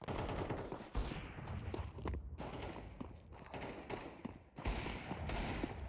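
Rapid bursts of AK rifle fire in a competitive shooter match, sharp cracks in quick runs broken by short pauses, fairly distant and quiet, with faint footsteps mixed in.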